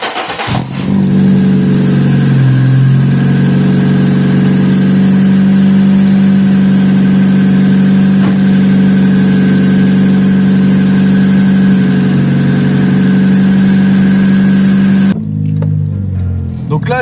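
A Peugeot 106 car engine drones steadily at close range while driving, holding a low, even pitch with a slight rise in revs early on. No other sounds compete.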